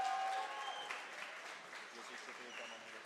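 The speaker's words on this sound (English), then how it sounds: "Please applaud for Team Dynamics and Monsteller." Audience applause at the end of a robotics competition match, a continuous mass of clapping with a few squeaky tones at the start, fading slightly as it goes.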